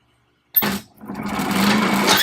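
Potter's wheel spinning up for throwing clay, starting abruptly after a brief silence with a sharp onset, then a steady, loud whirring hum that holds continuously, with no talking.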